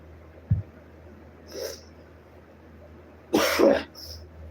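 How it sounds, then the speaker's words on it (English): A single short cough near the start, then a sharper burst of coughing or throat clearing later, over a quiet steady hum. "You'll notice me coughing and sniffling and congested a lot."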